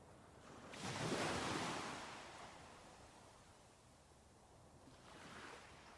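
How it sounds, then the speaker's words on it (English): Gentle ocean waves wash in soft broad swells, one fuller surge building early then fading, another rising near the end, with a faint breezy hiss throughout. "The gentle waves rock you back and forth,"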